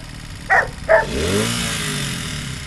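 A Honda CM200T motorcycle engine rises in a brief rev as the throttle opens, its pitch climbing and then holding steady. Two sharp dog barks come just before it.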